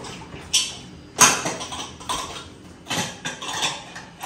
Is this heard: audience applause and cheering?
no